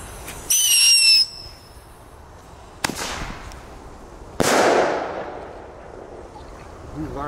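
New Thunderking firecrackers go off: a shrill whistle first, then two sharp, loud bangs a couple of seconds apart, each ringing out and fading in echo.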